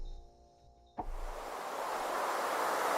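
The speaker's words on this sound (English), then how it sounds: "Or the ocean." Ocean waves recorded in Costa Rica come in as a broad rushing wash, rising and filling the space after a brief tonal drone cuts off.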